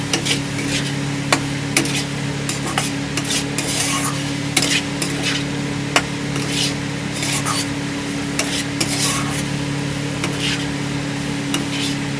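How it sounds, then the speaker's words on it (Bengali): Potatoes and mushrooms being stirred in a pan for a Korean-style dish, a steady scraping and clinking of a utensil over a low constant hum, with light sizzling underneath and occasional sharper knocks against the pan. "পটেটো মাশরুম দিয়ে দিয়েছি আমি এতে। দিয়ে ভালো করে নাড়িয়ে নেব।"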